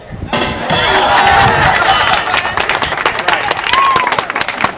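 Crowd applause fills the room after a bread pun at a comedy contest, starting abruptly and holding steady and loud for several seconds, with some cheering voices mixed in and gradually thinning toward the end.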